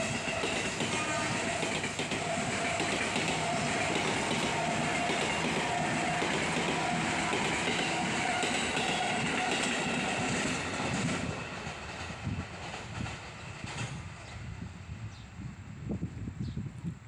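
A KRL commuter train passes nearby with a steady, dense rumble and rhythmic clatter of wheels on track for about eleven seconds, then fades to a softer tail.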